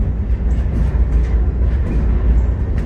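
Rumbling of a freight train rail car from aboard, riding through Illinois, a heavy continuous low roar with faint creaks and jolts as the car is yanked along.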